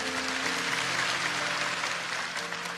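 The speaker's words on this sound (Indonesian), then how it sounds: "kasih tepuk tangan untuk Tuhan Yesus" A church congregation claps and applauds for Jesus during a sermon, a steady, dense wash of clapping that fills the whole stretch with a faint sustained tone beneath it.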